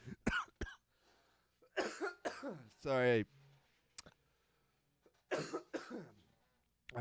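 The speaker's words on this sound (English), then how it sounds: "I'm coughing because of air quality." Coughing attributed to poor air quality from Canadian wildfire smoke: a few short, sharp coughs and a throat-clearing spread through the stretch, loud and close, with someone speaking between them.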